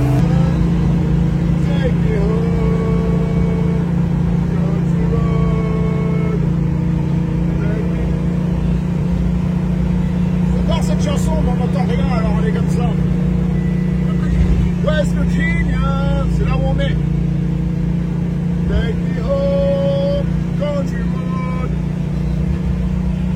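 Car interior on a highway during a road trip from New York to Los Angeles, with a constant low engine and road drone and a steady hum throughout while people talk over it.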